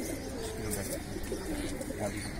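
Soft coos from a Giribaz pigeon come through faintly, a few low, warbling notes over a steady background hiss.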